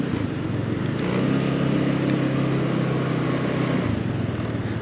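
An MBP SC 125 RE scooter engine drones steadily while riding, a close, continuous hum mixed with rushing wind and road noise, its pitch easing slightly near the end.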